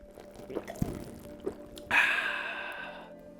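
Water poured from a cup standing in for coffee, starting with a few small clicks and knocks before a sudden close splashing stream that slowly tapers off.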